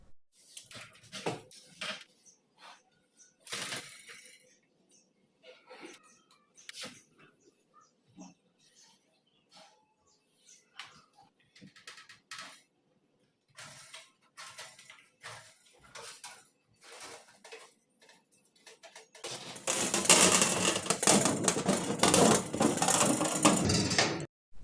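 Cutting a piece of refrigerator evaporator cooling coil: a string of short metallic clicks and snips, then a loud, sustained harsh grinding or sawing burst toward the end.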